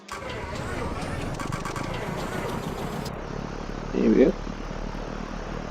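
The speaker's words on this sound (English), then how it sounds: "we would be able to start the engine, hopefully" An Alabeo M20R Ovation's piston engine in the X-Plane 11 flight simulator turns over and settles into a steady, droning run, with the tone shifting partway through and someone briefly speaking over it.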